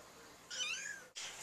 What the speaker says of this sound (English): Cute kitten!